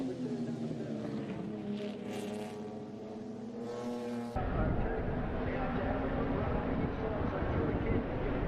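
Race cars brake heavily into a corner at a Western Australian club motorsport circuit, engines loud and close with downshifting revs before a sharp cut to steadier, broader engine noise.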